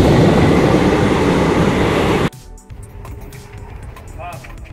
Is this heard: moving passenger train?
yes